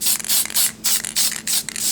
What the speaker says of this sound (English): I'm going to take the PME Luster Pearl Spray. It's just like almost like an aerosol can